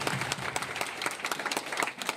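An audience at a 2024 rural medicine and skills development workshop claps together in dense, continuous applause, close and fairly loud, with a voice faintly audible underneath.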